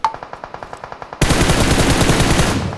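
Automatic gunfire in PUBG Mobile: a rapid string of about a dozen sharp single shots, then a sudden, louder, continuous burst of overlapping fire that fills the rest of the moment.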